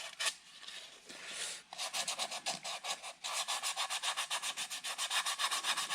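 Steady back-and-forth sanding on a wooden bandsaw box, a brisk rhythmic rasp of abrasive on wood repeating quickly and evenly, close and clear with no voices.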